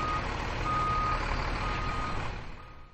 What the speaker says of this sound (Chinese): 留意重型机械倒车警示